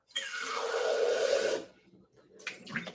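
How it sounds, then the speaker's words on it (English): Running tap water rinses out a shaker bottle in a kitchen, a loud close gush for about a second and a half that stops abruptly, followed by a few light clatters. "Let me rinse this out real quick."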